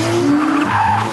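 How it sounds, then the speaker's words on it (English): Loud, continuous squeal of tires from a rear-wheel-drive car drifting at Santa Pod Raceway, Northamptonshire, with steady engine roar underneath, close by and unbroken. "rear-wheel drive and 280 brake is plenty for a bit of drifting"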